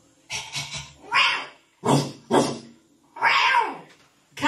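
A person's voice imitates a cat, giving a series of about six meows in short bursts with brief pauses, close to the mic.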